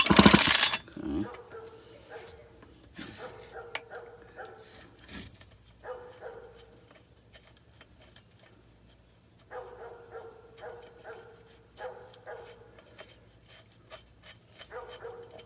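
A neighbor's dog barks in repeated short bursts from some distance, with quiet gaps between volleys and faint mechanical clicks and rattles nearby.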